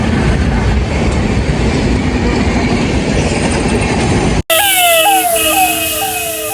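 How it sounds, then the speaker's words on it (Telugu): A train rumbles past close by with a loud, continuous roar and rattling wheels, then a wailing ambulance siren rises and falls. "ట్రైన్ కూడా పోతుంది"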